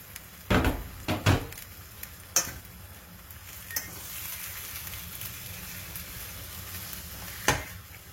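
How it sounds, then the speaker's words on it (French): Goat meat for a colombo sizzles in hot oil in a pot, a steady low hiss broken by a few sharp clatters early on and one more near the end. "La viande est en train de lâcher tout son eau"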